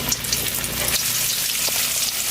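Fish frying in coconut oil in a pan, giving a dense, continuous sizzle that stays steady and fairly loud throughout, close up, with no talking.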